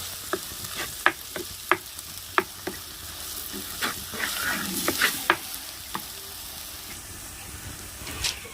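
Spice powders heat in oil in a pan for a village-style Kerala fish curry, giving a soft, steady sizzle. A spoon scrapes and taps against the pan in a string of sharp strokes. No one speaks.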